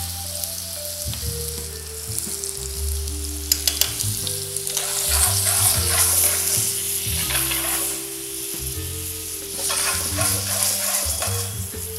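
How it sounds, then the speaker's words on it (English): Butter melts and sizzles in a frying pan, with a steady bright hiss and crackle that swells and eases over several seconds, close up, with a few clinks from stirring and a low background hum, no talking. "I'll be adding a bit of butter to it"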